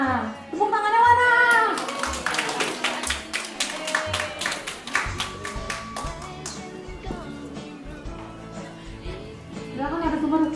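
An audience at a university seminar breaks into clapping to welcome the speakers, with a dense run of hand claps filling the middle of the clip and a voice talking briefly before and after.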